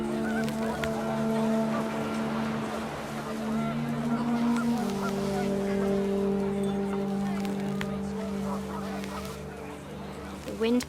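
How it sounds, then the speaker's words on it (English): Panicked geese honk steadily in the video game What Remains of Edith Finch, their calls blending into a sustained, layered drone against windy ambience at moderate volume. "The wind picked up, and panicked geese appeared and quickly went"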